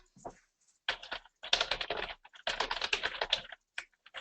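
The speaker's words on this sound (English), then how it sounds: "I can type in the street name" Rapid bursts of clicky keystrokes on a computer keyboard as a street name is entered into a real-estate listing search field, close and clear with short pauses between runs; no voices.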